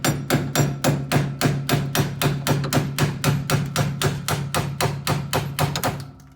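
A hammer pounds a spindle off a car during a disc brake conversion on an AMC Javelin SST, striking in a steady, rapid rhythm of about twenty close, loud metallic blows with no talking.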